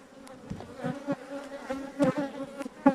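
Honey bees buzz close by at a hive in a busy, droning swarm, with individual insects whirring past in louder bursts over a steady hum.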